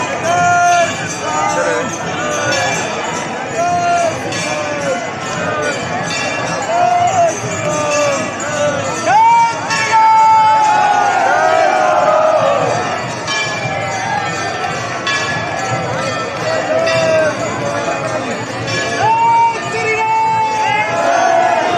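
A large crowd of pilgrims at Mehandipur Balaji temple in the evening, a dense continuous babble of many voices close around, with temple bells ringing now and then through the noise.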